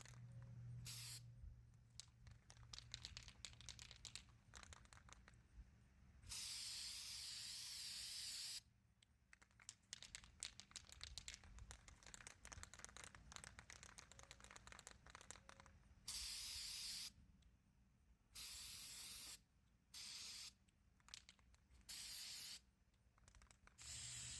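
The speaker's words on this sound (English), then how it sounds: "We're going to take some Rust-Oleum textured spray paint and put a layer on both of these pieces." Rust-Oleum textured spray paint hisses from an aerosol can in several sustained close bursts separated by short pauses, applied as a layer onto Dollar Tree craft pieces for fall home decor.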